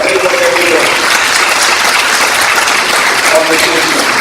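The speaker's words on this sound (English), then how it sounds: "Would you give these people a round of applause" Loud, dense applause from the crowd at a town hall meeting on Black-on-Black crime in Tampa, Florida, continuous clapping close by for the full stretch with a few voices mixed in.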